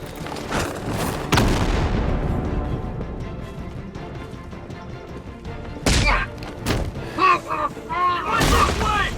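A grenade blasts in Batman: Arkham Knight gameplay, a deep booming burst near the end amid other heavy impacts and gunfire-like thuds, over a continuous loud game soundscape.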